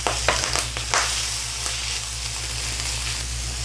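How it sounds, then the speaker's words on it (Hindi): Two chopped tomatoes drop into a pan of chicken liver and tomato paste and fry in a steady, close sizzle, with a few brief stirring scrapes early on. "अब इसमें डालेंगे 2 बड़े टमाटर चॉप किए हुए।"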